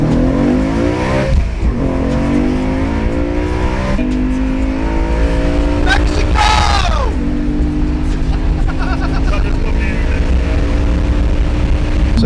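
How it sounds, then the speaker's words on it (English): A BMW fitted with a BMW Motorsport carbon induction kit revs loudly at close range, its engine note rising and falling in sweeping pulls over a sustained deep rumble across the whole stretch. "If you're at the front of the car, it sounds more like a muscle car, doesn't it?"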